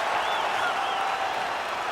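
A dense arena crowd cheers and applauds continuously in a UFC 5 video game after a full-length fight between Khabib Nurmagomedov and Daniel Cormier, a loud, steady roar with no pauses.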